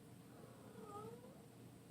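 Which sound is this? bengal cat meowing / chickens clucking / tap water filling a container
bengal cat meowing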